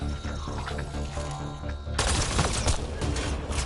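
Rapid gunfire bursts in the Mass Effect Andromeda shooter, a dense crackling volley that suddenly grows louder and busier midway, with ambient game sound beneath.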